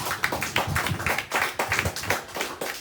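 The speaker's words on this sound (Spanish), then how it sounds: "Démosle un aplauso a nuestro Señor." A church congregation claps along at a sermon, a dense spread of overlapping handclaps with a loose rhythmic pulse, fairly near and steady throughout with no talk.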